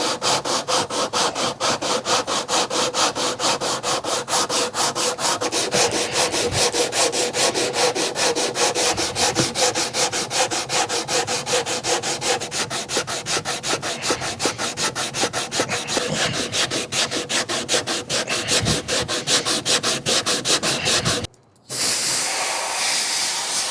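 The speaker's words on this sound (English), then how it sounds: "I have applied 120 grit sandpaper to this" Sandpaper of 120 grit on a flat bar is rubbed steadily along an old mahogany guitar neck, making a loud, continuous, rhythmic rasping for over twenty seconds that breaks off briefly near the end.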